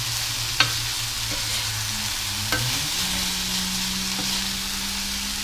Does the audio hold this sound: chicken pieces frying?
yes